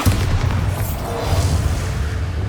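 A Bombarda blasting spell explodes in the Hogwarts Legacy video game, a loud, sustained booming rumble with a bright crackling wash over it, heavy and continuous throughout without speech.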